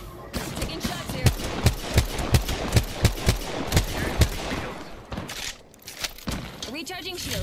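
Rapid, evenly spaced gunshots from a video game crack out in a loud burst of about a dozen rounds, then give way to scattered quieter shots and game noise, with voices talking over the action.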